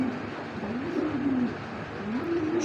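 Young racing pigeons from 2023 coo close by, a few low, drawn-out rolling calls rising and falling over a faint steady background.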